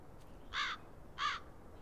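A raven in the video game Black Mirror 2 gives two harsh, clear caws about half a second apart over a quiet background hum.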